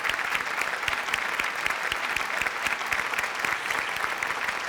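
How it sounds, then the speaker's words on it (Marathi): Sustained, energetic studio-audience clapping on a Marathi comedy TV show, thick and even throughout, with no voices on top. "जोरदार टाळ्या झाल्या पाहिजेत आणि थांबल्या नाही पाहिजेत पुढचे 2 मिनिटं."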